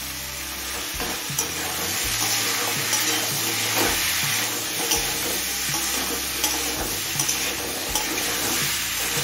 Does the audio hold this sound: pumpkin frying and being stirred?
yes